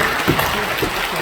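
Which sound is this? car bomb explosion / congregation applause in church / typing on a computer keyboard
congregation applause in church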